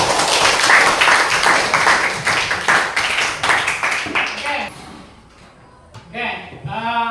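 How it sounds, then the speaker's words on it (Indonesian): A classroom of students claps together in a burst of applause for about five seconds, the claps dense and near. Then it fades and a voice speaks. "Tepuk tangan dulu untuk kita semua."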